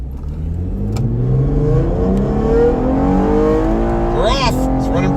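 A V6 Chevrolet Camaro RS accelerates hard from a stop on a street, its engine note climbing steadily through rising pitches before a gear change. A person talks over the loud, close engine.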